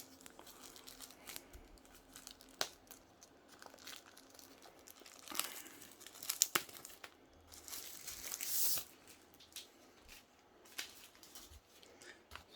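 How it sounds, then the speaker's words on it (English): A black plastic bag around a Razer Huntsman V2 Analog keyboard wrist rest crinkles and tears during unwrapping, with soft scattered rustles building to louder, denser bursts of crackling plastic near the middle, close and with no talk. "A nice black plastic bag."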